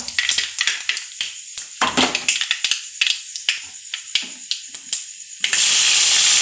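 Fennel seeds and mixed tempering spices crackle and spit in hot oil while a utensil scrapes and stirs through them in rapid uneven bursts, close and loud, ending in a steady bright sizzle.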